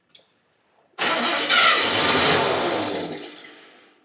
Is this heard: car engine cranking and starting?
yes